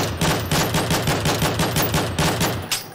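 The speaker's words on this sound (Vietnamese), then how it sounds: "Phải bắn nó ngay lập tức." Loud, steady automatic gunfire shooting at Siren Head in a video game, about a dozen evenly spaced close shots fired in a rhythmic stream with no talking over it.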